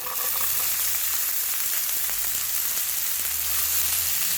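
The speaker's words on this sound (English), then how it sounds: "we just want to saute that onion now for around 3 to 5 minutes" One large finely chopped onion fries in about four tablespoons of hot oil for a chicken curry, a dense, even sizzle that holds steady and close throughout without pause or voices.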